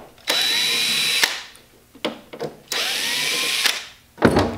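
Power driver on Torx screws of a large BMW lithium EV battery pack, two sustained whirring bursts of about a second each, with short clicks and a brief final burst, close up and alone.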